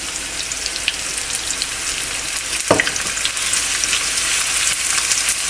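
Onions dropped into hot oil with bay leaves and black peppercorns for a mutton liver curry, giving a steady bright sizzle and crackle, with one sharp clatter partway through as they hit the pan.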